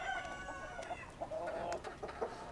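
A bantam rooster crows close by during a courtship display, a clear harmonic call with some clucking, alone with no talk.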